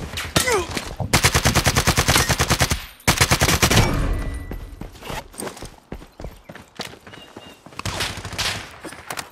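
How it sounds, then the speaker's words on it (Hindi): Rapid machine gun fire in the survival shooter Lost Light rattles in loud sustained bursts, pausing briefly and then resuming, followed by scattered single shots and footstep-like clatter. "पे कौन चला रहा है गन किधर बैठा है"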